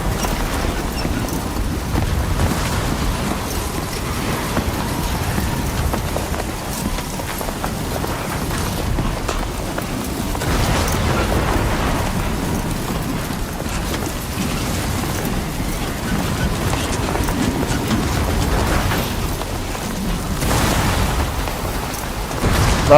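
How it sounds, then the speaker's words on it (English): Steady storm ambience from the video game Death Stranding 2: continuous rain and wind with low rumbling swells of thunder, loud and unbroken throughout, no talk. "Worst storm in the century."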